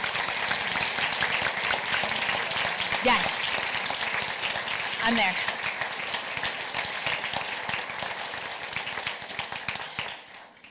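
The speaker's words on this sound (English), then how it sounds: "Can we give all these students just a round of applause?" Sustained applause from the audience at a school board meeting honoring exchange students, steady crowd clapping for about ten seconds with brief voices over it, fading out at the end.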